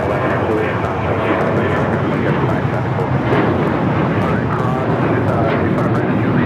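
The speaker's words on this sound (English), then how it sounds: "2449 taking off to Las Vegas on the 737-900ER" A United Airlines Boeing 737-900ER taking off from LAX for Las Vegas, a loud continuous engine roar with wind buffeting and voices talking over it.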